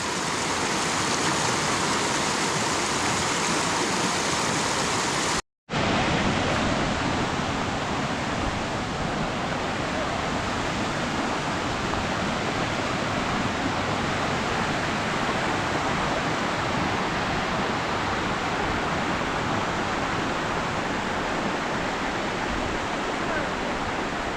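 A steady, dense roar of falling water at Sabbaday Falls, New Hampshire, fills the whole stretch, loud and continuous, with only a brief silent dropout near the start.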